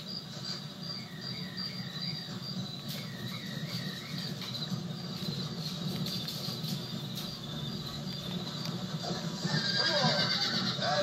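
A horse in the Red Dead Redemption video game gives a couple of whinnies amid constant cricket chirping in an outdoor night ambience, with no talk.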